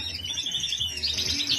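Norwich canary hybrids in a bird room chirp and twitter busily, with several birds calling at once in bright, rapid overlapping trills, close and lively, and no voices.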